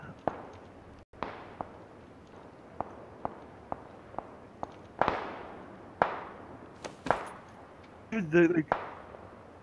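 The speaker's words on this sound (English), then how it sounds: "there's shots everywhere" Scattered gunshots in a video game ring out as sharp, distant cracks at irregular intervals, a dozen or so over several seconds, with a burst of chatter near the end and a voice speaking briefly.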